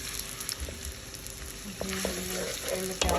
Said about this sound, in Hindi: तो पैन के अंदर हमने ऑयल लिया था, तो उसके अंदर हम एक चॉप प्याज ऐड कर रहे हैं।